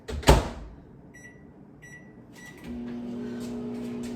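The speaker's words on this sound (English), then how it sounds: "I'm gonna put this right in the microwave for like 29 seconds." A door thumps shut, a few electronic beeps sound, then a microwave oven heating bone broth starts up with a steady low hum.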